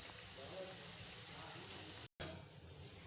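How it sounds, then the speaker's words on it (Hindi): Chicken vegetable rolls fry in hot oil with a steady, dense crackling sizzle, broken by a brief silent gap near the end before the sizzling resumes. "यहाँ पे भी ये फ्राई हो रहे हैं।"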